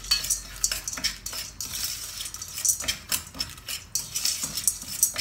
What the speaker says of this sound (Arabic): غادي نضيفو الفشار ديالنا ونبداو نحركو هاد الطريقة هادي